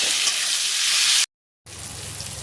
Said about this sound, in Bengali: টমেটোটা দিয়ে দিচ্ছি টমেটোটা একটু ভেজে নেবো